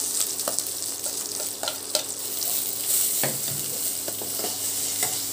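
Onions sautéing in a pan for prawn upma give a steady, close sizzle. Scraping stirs of a spoon against the pan recur throughout at an irregular rhythm, with no talking.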